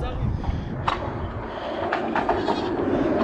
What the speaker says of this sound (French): Regardez les gars, il y a des chèvres.